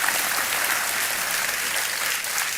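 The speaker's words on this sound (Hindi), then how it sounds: "तालियां बजती रहें इनके लिए" A studio audience at a Kaun Banega Crorepati quiz show applauding, dense continuous clapping that stays loud and even for a couple of seconds with no voices over it.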